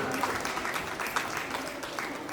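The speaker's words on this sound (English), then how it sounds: "Please, dear parents, we can give them a big applause." Parents at a graduation day ceremony give a moderate round of applause, a continuous, fairly soft patter of many hands with a faint murmur of voices underneath.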